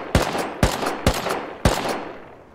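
Gunfire in the survival video game Rust: four sharp, loud shots spaced roughly half a second apart, each trailing into a fading echo, with no talking over them.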